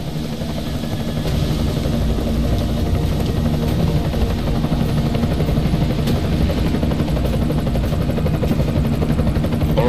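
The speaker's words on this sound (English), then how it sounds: "Enemy helo sighted." An enemy helicopter in the video game Deus Ex: Mankind Divided, its rotor and engine drone loud, close and continuous throughout, with a steady low throb and no voices over it.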